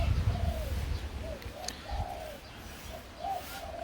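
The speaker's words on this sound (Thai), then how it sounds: "เริ่มคูกันแล้วนะครับ" Doves coo repeatedly in soft, low, rolling calls, several birds overlapping at close range in pens over a steady background hum.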